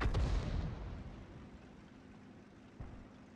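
SU-14-2 self-propelled artillery gun firing in a tank video game, one heavy close blast at the start that rolls off into a long fading rumble, followed by a fainter thump near the end.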